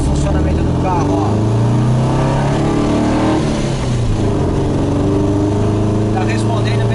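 A 1973 Volkswagen Karmann Ghia TC with an air-cooled engine and a Venturi 24 carburettor runs steadily, a loud continuous engine drone with slight revs, while someone talks over it.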